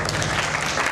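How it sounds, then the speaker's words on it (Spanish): Brief burst of applause from an audience at a school reading event, greeting the teachers on the jury; steady, dense clapping for about a second. "un aplauso para ellas"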